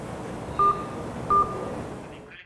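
Two evenly spaced phone keypad tones beep while a number is dialed on a mobile phone for a police emergency call, each a short steady beep over a steady background hum.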